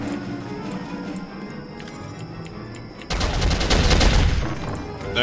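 Machine gun fire in the Soldier of Fortune video game, a loud sustained burst of rapid shots that erupts abruptly partway through after quieter ambient game sound, with no voices.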